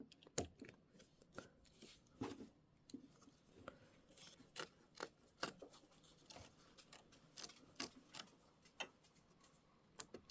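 Scissors trim quilt fabric close to a stitch line, giving a run of crisp, close snips in an uneven rhythm, with short pauses between cuts.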